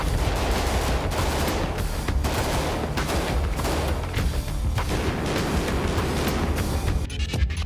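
AK-203 assault rifle firing on full automatic at up to 700 rounds per minute, a dense, loud continuous fusillade of overlapping shots and booms with no talking.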